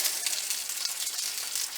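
Bacon sizzles in bacon fat in a thin frying pan, a soft, steady, high crackling hiss with small pops, heard alone without talk.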